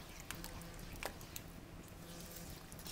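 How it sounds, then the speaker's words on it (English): Potatoes being stirred into a thick yogurt curry sauce, giving soft wet squishing and a few brief sticky clicks against the bowl, low and close with no talking. "mix them really nicely into this yogurt sauce so that it coats every inch of it"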